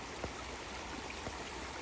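A creek flowing outdoors, fed by fresh spring water, gives a steady broadband rush with faint trickling detail. It sounds moderately distant and low in level, with no talk.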